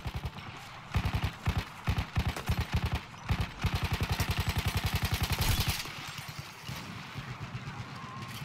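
Rapid automatic gunfire from Battlefield 1 on PC, long loud bursts of shots in fast rhythm and some single cracks, with one sustained stretch of steady firing before it thins out.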